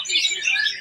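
A pet bird, kept by a bird keeper in West Java, gives a short, bright chirping call that sounds close and clear for under a second, with no talking over it.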